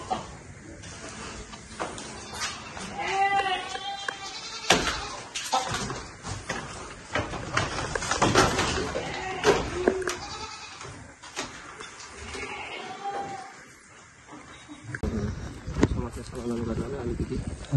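Goats bleat repeatedly in a pen at a polytechnic school farm, their calls close and recurring throughout, mixed with people talking nearby.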